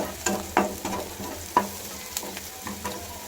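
Mushrooms and onions frying in a pan, an even sizzle broken by sharp scrapes and clacks of a stirring spoon at uneven intervals, close up and with no talk.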